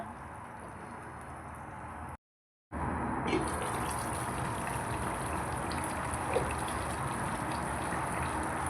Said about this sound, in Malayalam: അപ്പോൾ ഇറച്ചി വേവാനായിട്ട് കുറച്ച് കൂടുതൽ വെള്ളം ഒഴിക്കുക